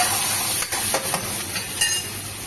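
Steady sizzling hiss of egg tadka frying in a hot pan in a hotel kitchen, with a few soft scraping clatters of a utensil stirring it.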